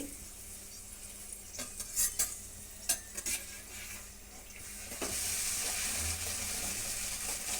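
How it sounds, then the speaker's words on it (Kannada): Maida puri deep frying in hot oil, a continuous hiss that swells louder partway through, mixed with clattering metal utensil taps and scrapes against the pan, no voices. "ಈ ರೀತಿ ಎಲ್ಲ ಡೀಪ್ ಫ್ರೈ ಮಾಡ್ಕೊಂಬಿಡಿ"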